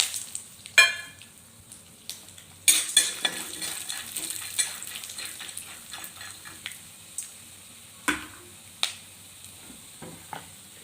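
Peanuts and chana dal tossed into hot coconut oil with spluttering mustard seeds, giving a soft steady sizzle with sharp pops and clicks of a spoon stirring against the pan, close and without talk.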